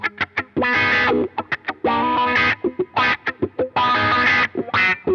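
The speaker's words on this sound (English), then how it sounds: "I'll just show you what the wah sounds like." Electric guitar played through a Vox wah pedal gives a distorted, choppy riff of short stabs and sustained chords, its tone sweeping open and closed. It is fairly loud with no voices.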